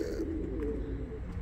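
Domestic pigeons coo in low, soft, rolling calls close by, several gentle throaty phrases running together without talk.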